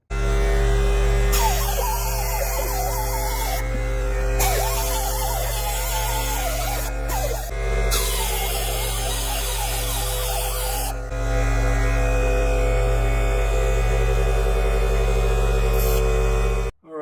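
A Harbor Freight air-powered 90-degree die grinder runs against metal while work is done around a Ford FE engine starter on an F100: a loud, steady, buzzing whine with wavering grinding tones, briefly easing and resuming.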